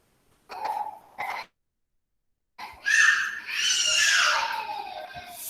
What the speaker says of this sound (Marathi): ओरडू नको बाळा